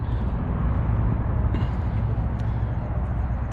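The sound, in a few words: traffic noise from a nearby freeway at Cracker Barrel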